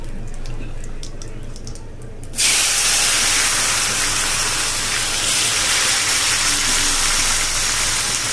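Tomatoes hit hot oil already tempered with whole garam masala, cumin and bay leaves, bursting into a loud, sustained sizzle after a quieter start. The hiss stays dense and close right to the end.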